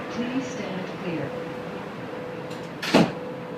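Sliding doors of a Las Vegas Strip tram shut with a brief, firm thud near the end, after a steady hum of the idling car and a faint automated voice.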